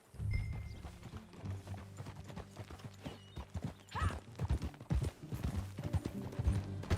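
Steady clip-clop of horse hooves trotting along at an even rhythm in the video game Red Dead Redemption 2, fairly close, with a brief whinny partway through and a faint low hum beneath.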